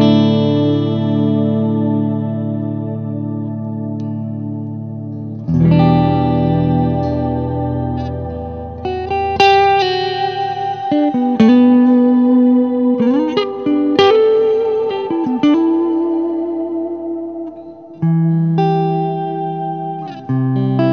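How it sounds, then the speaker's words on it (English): Clean electric guitar chords and single notes through an Electro-Harmonix Ocean's 11 reverb pedal in an Orange amp's effects loop ring out with lush, long reverb tails, each strum blooming and fading into a wide, washy ambience. "Electro-Harmonix Ocean's 11 reverb plugged into the effects loop"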